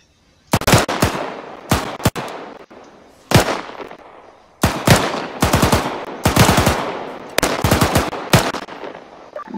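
Rifle fire in Antistasi, a mission in Arma 3: loud, sharp shots come singly and in quick bursts, with cracks and short echoing tails spread across several seconds.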